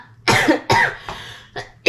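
Dry, unproductive cough with no phlegm from a woman, three or four close separate bursts, fairly near and alone, with no talk.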